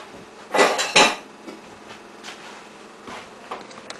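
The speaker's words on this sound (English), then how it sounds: "Now we shall give it a stir." Slow-cooked lamb stew, just out of the oven after 2.5 hours with a thick sauce, is stirred in a pot; a couple of sharp clanks of the spoon on the pot come first, then softer scraping and light taps.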